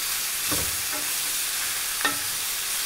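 Big shrimp sizzling in a hot pan, a steady frying hiss broken by a couple of soft stirring scrapes and knocks, with no one talking.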